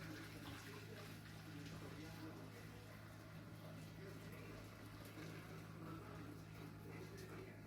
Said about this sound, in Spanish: ahora procedemos a echarlos en otra olla para escurrir el agua del espagueti